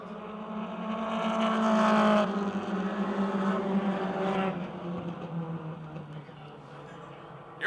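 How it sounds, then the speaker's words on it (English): Super Compact race cars in a heat race at Motordrome Speedway, a pack of engines roaring past with rising and falling drone, loudest early then fading, under a commentator's voice. "You're looking at a really fast heat race field for the Super Compacts here"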